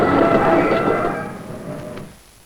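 A passenger train grinds and rumbles as it brakes to a stop after the emergency chain is pulled, a loud steady roar with a faint metallic squeal that fades out over a couple of seconds.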